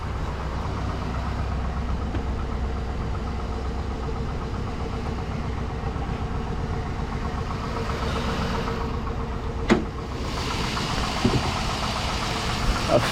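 A 5.3 LS V8 in a truck idles steadily and loudly for the whole stretch, a low, even rumble with faint knocking and vibration, plus one brief sharp knock near the end.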